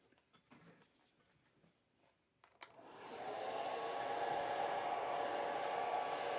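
A hair dryer switches on with a click and runs in a steady, even whoosh to dry a watercolor painting, starting after a few seconds of quiet scratchy handling sounds.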